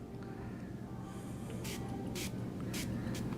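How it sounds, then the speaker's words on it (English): Several short hissing sprays of bowling ball cleaner from a small bottle onto a bowling ball, four quick bursts over a low steady room hum. "Give it a generous spray on the one side there."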